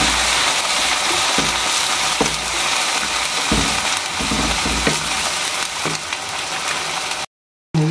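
Garlic ginger paste frying with browned onions in vegetable oil for kachnar qeema, a steady, close sizzle with a few soft stirring knocks and a short silent gap near the end.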